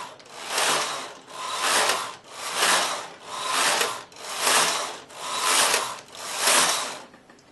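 A knitting machine carriage sweeps back and forth across the needle bed, knitting rows in waste yarn. It gives seven even, swelling rasps about a second apart, close and clear with no voices.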